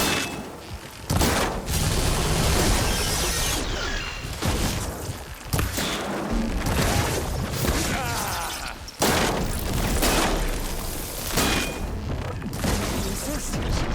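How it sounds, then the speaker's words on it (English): Supporting gunfire rattles through a Horizon Forbidden West battle, with dense, loud volleys of shots and booms almost nonstop, dropping out briefly in a few short gaps. "Aloy's giving us some supporting fire."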